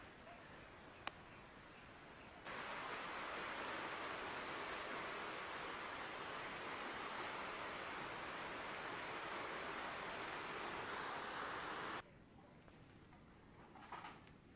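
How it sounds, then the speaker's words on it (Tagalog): Steady rain falling outdoors near a fishing spot, a dense even hiss that starts abruptly, holds for about ten seconds, then cuts off, with faint background otherwise. "ayun na yung ulan"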